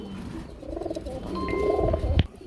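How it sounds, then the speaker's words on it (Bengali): Pigeons at a pigeon market give soft, throaty coos that rise and fall over a couple of seconds, close and moderately loud, with a short sharp tap near the end. "আমরা এক জোড়া শেখর কবুতর দেখতে পাচ্ছি"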